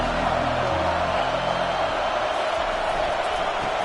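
A hostile crowd roaring in a football stadium, a steady, dense wash of noise that holds at one loud level throughout, with low tones fading out early on.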